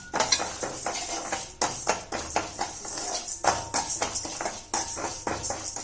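Lentils dry roasting in a hot pan on a stove, stirred continuously with a metal spoon that scrapes and clinks against the pan in a steady, busy rhythm, close up and with no voices.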